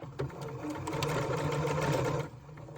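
A sewing machine runs steadily, stitching jeans fabric in one continuous burst of fast, even mechanical whirring, close and moderately loud, then stops.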